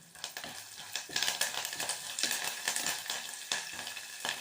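Dried turkey berries, a single dried red chilli and curry leaves sizzle and crackle in hot oil for a Brahmin-style vatha kuzhambu, a steady close frying hiss with sharper pops throughout and no voices.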